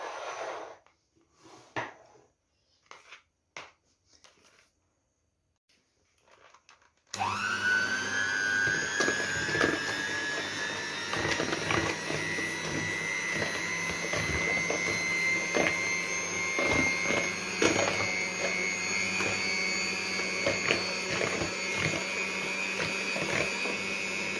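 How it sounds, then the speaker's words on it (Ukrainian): An electric hand mixer beating cake batter with sugar whirs continuously at a steady high pitch after a few quiet knocks and clatters, running loud and close. "Зараз міксером буду збивати."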